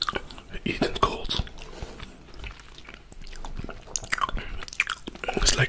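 Crunchy frozen mandarin orange segments chewed up close, with irregular crisp bites and wet mastication continuing throughout amid soft whispery mouth sounds.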